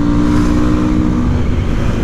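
Honda Lander 250 motorcycle engine running with its air filter cover removed, a loud, close, steady rumbling drone with a raspy intake tone and no pauses.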